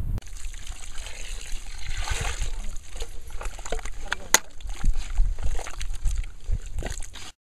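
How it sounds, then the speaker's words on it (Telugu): Water is splashed and sprinkled into a compost pit during filling, a continuous trickling and sloshing with occasional splashes, heard alongside a voice talking. "ఇలా నీళ్ళు ఎందుకు తలుతున్నావు"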